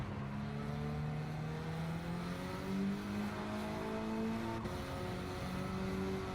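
Race car engine in Gran Turismo 7, a steady buzzing drone with pitch climbing and stepping through gears, moderately loud and without voices.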